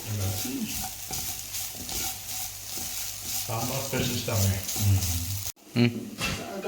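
Shallots, garlic and curry leaves fry in hot oil for a homemade sambar, giving a steady close sizzle with stirring scrapes and a low cooking hum throughout, briefly cut near the end.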